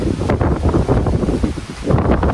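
Strong wind ahead of Hurricane Helene buffets the microphone in a steady, loud roar with gusting surges, like rushing air and surf, outdoors among orchids; no speech.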